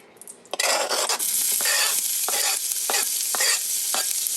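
Onions sizzle loudly in a hot pan as a utensil stirs and scrapes them in repeated strokes, the frying hiss steady and close with no talking.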